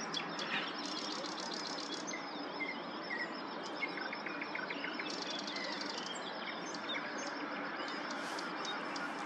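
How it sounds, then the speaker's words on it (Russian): A nightingale singing on a May morning, its clear repeated phrases carrying over a dense chorus of other birds and insects, continuous and at moderate distance. "Это появился соловей."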